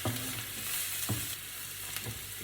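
Bitter gourd thoran being stirred in a pan, with a soft sizzle under repeated scraping strokes of a spoon against the pan, close and moderately quiet, no talking.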